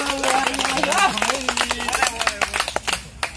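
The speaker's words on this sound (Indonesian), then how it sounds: "Oke, tepuk tangan dulu." A group claps hands in unison during a paintball game safety briefing, a quick run of sharp claps that thins into scattered, uneven claps, with a voice talking over the start.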